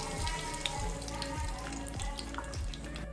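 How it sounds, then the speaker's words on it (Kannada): Mustard seeds sizzle in hot oil for a Karnataka brinjal palya tempering, a steady close crackle with soft popping and faint spoon stirring throughout. "ಎಣ್ಣೆ ಬಿಸಿ ಆದ ನಂತರ ಈಗ ಮಸ್ಟರ್ಡ್ ಸಾಸಿವೆ 1 ಟೀ ಸ್ಪೂನು"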